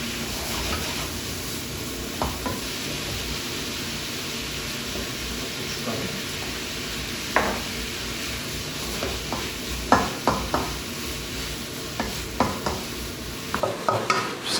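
Pork jaeyukbokkeum stir-fries in a hot pan with soy sauce and sugar added, a steady sizzle under repeated scraping and clattering strokes of a utensil that grow busier toward the end, with no talking.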